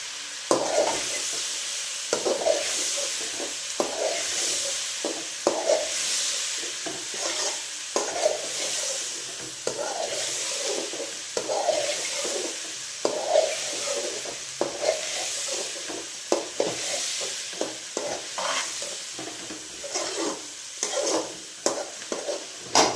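Spices fry in a pan for a fish curry, with a continuous sizzle punctuated by frequent rhythmic stirring scrapes, close and moderately loud, with no talking.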